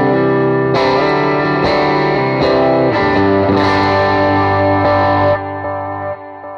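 Clean electric guitar through a pedalboard with quarter-note delay and reverb, a series of sustained chords struck roughly once a second, each ringing into the repeats, then fading into a reverberant tail.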